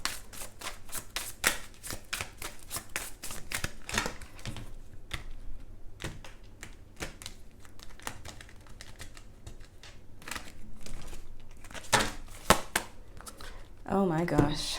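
A deck of tarot cards is shuffled in rapid bursts of crisp, close clicking and flicking that come in bunches with short pauses between them.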